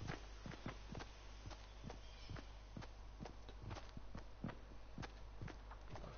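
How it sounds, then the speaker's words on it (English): Footsteps in the Fortnite battle royale game, a steady run of soft, quick steps alone with no talk, fairly faint and regular across the whole stretch. "I hear the footsteps."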